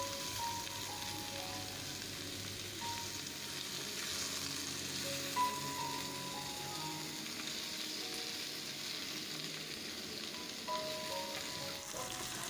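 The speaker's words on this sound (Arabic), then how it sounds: "وهقلب برضو كل الكمية مع بعض" A pasta mixture sizzles and fries steadily in a pan as it is stirred, a continuous close crackle with faint clinks, and no voices.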